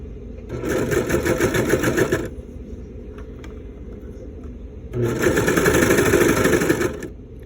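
A sewing machine stitches stretch piping onto fabric in two slow bursts of rapid, steady mechanical chatter. A quieter pause separates them, with faint handling noises in between.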